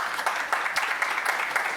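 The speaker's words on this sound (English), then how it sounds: "join me in a big round of applause for them" Conference audience at a Baltic Sea wind energy event applauding to welcome a speaker, a steady dense wash of clapping throughout.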